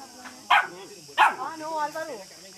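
Dogs at a summer barbecue bark twice, short loud barks close by, followed by softer yips and whimpers, with people talking in the background.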